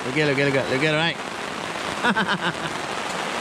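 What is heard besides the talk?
heavy rain falling at a lakeside campsite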